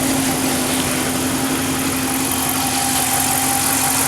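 A Dodge Ram 2500's 5.7-liter Hemi V8 idles quietly and steadily up close, a smooth even hum with a faint mechanical tick and no talking.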